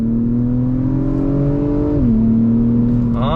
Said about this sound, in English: from a dead stop, on throttle, here we go